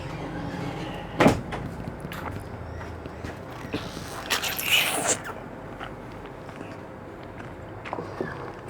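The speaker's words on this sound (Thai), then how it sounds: "โอ้ เสียงประตูดังจังเลย" A door bangs open or shut in a quiet room, one sharp loud knock followed by softer rattles and handling sounds, with no one speaking over it.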